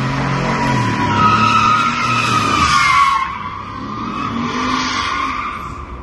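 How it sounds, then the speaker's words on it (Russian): On city streets in Makhachkala, Dagestan, cars roar and tires squeal loudly as vehicles skid past nearby, engines revving high before the noise drops back to a lower drone. "Рев машин и грохот мотоциклистов."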